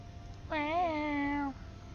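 A single clear, drawn-out meow from a house cat indoors lasts about a second, close and moderately loud against a quiet room with no talk.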